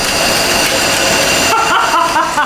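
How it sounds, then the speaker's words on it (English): The engine of a 1956 Chevy wagon that sat in an Australian shed for years idles loud and close, a dense steady roar with a slight wavering in its tone. "It is literally sitting there idling."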